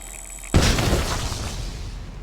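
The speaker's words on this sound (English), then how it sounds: "That was the sound of a monkey bomb." A monkey bomb exploding in the video game Vigor: after a low steady ambience, one sudden loud boom bursts out and decays into a long rumbling, crackling tail.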